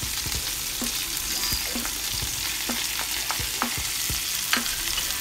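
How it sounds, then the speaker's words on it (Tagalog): Sliced onion fries with chicken in a pan for afritada, giving a steady close sizzle with repeated scraping strokes of a spoon stirring throughout. "halu-haluin lang natin para mag-mix ng maayos dun sa chicken yung sibuyas"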